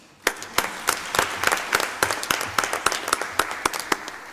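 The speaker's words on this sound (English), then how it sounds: "please give a big applause to our amazing panelists" Audience applause for conference panelists at the close of a session: a small crowd claps in a loose, steady patter of distinct hand claps, moderately near and fairly faint, with no speech.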